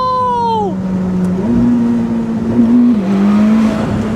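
A Ferrari SF90 Spider hybrid supercar accelerates hard from inside the cabin, with its engine note climbing in a loud, steady drone that steps up through the gears over a high whine that drops away early.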